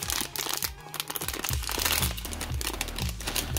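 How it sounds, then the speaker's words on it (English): A cardboard box is ripped open by hand during a toy case unboxing, giving loud crinkling, tearing and crunching noises in irregular bursts up close with no talk. "it's a box. Just rip it open."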